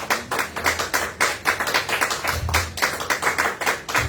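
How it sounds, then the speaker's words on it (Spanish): A church congregation claps and applauds together in steady, fairly loud rhythmic clapping that keeps going without pause and with no talk over it. "si puedes darle un aplauso al Señor"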